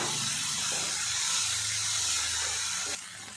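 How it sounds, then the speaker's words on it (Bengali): Bitter gourd stir-frying in a pan gives a steady, close sizzling hiss that holds for a few seconds and then drops slightly in level near the end, with no voices. "একসঙ্গে এগুলো আমি নাড়াচাড়া করে ভাজা ভাজা করে নেব"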